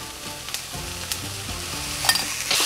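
Shredded cabbage stir-frying fast in a hot pan over high heat for fried rice, a steady sizzle broken by scraping and tossing strokes of a spatula, close and fairly quiet, with no talking.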